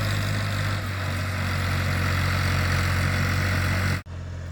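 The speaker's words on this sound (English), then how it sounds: "A nice tractor." A Fiat 480 tractor idles in a farm field, its diesel engine giving a steady low rumble close by with no talking, until a sudden drop near the end.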